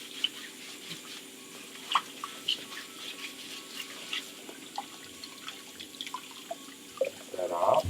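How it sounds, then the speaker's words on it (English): Tap water runs faintly and steadily into a kitchen sink while carrots are rinsed for chicken spring rolls, with small drips and splashes scattered throughout. "Rinse that off. My carrots."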